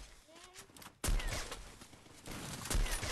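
Sniper rifle fire in a video game, with a sharp loud shot cracking out about a second in and another near the end, over busy game noise and a voice talking.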